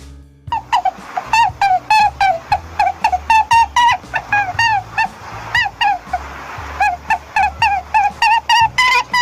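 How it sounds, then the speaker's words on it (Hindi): Repeated loud goose honks, a close, rapid series of harsh nasal calls in an uneven rhythm, sounding like several birds calling over one another. "गूस को हिंदी में कहते हैं बतख और गूस के बेबी को कहते हैं गॉसलिंग"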